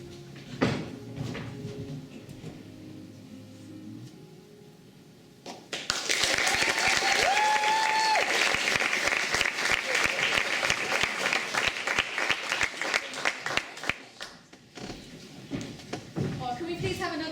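Audience applause erupts after a live song at a school variety show, loud and sustained for several seconds with dense clapping, preceded by singing and a voice over the end.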